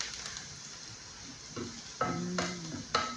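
Sheep liver sizzles in a pan with browned onion and garlic, a steady low frying hiss broken by several scraping stirs of a utensil against the pan, close and fairly quiet with no talking.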